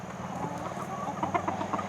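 Hens cluck softly in their outdoor run, with a few short, scattered calls toward the end over a steady background hum and no talking.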